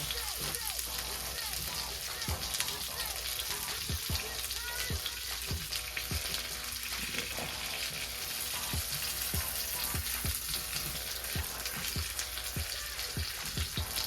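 Pork chops fry in a pan with a dense, continuous crackling sizzle, peppered with sharp popping spatters of hot fat throughout.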